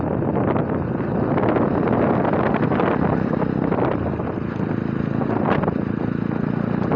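Riding a TVS Apache motorcycle on roads in Goa, heavy wind buffeting roars across the microphone, largely burying a faint engine hum throughout the continuous ride.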